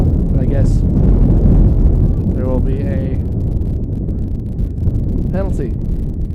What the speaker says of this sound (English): It's also super windy right now